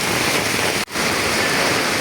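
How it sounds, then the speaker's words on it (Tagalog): Heavy rain pours down in a dense, constant roar, briefly cut by a split-second dropout before the downpour resumes. "ganito ang lakas ng ulan ngayon"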